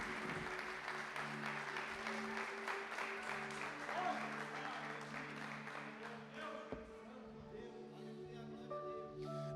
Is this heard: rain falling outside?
no